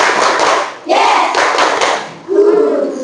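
A classroom of students doing the tepuk 1, 2, 3 clapping ice-breaker: bursts of rhythmic group clapping and noisy crowd sound, ending with the class shouting together.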